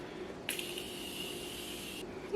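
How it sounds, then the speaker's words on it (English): A steady hiss of Morphe Continuous Mist Setting Spray sprayed close by, lasting about a second and a half, with a quiet room before and after. "I'll go in with the Morphe Continuous Mist Setting Spray"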